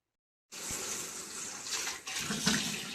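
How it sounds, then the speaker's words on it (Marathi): Mangoes are washed under running water: a close, steady gush from a tap splashes over the fruit, briefly dipping and then pouring on with some light handling sounds. "आपण धुवून घेऊया चला"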